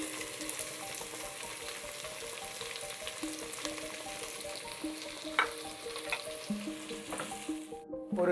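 Onion, green chillies, dried chillies, cardamom and ginger sautéing in a pan for broken-wheat khichdi: a steady close sizzle and crackle of frying, with occasional scrapes and clinks of a spoon stirring.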